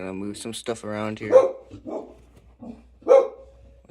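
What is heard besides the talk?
dog barking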